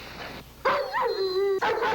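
A dog gives a short burst of barks and yips, close and fairly loud, with a whining tone between the barks.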